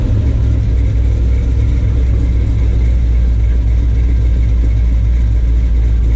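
A car's LS-swapped V8 runs at a steady idle, a loud, close, continuous low rumble that holds even from start to finish with no voices over it.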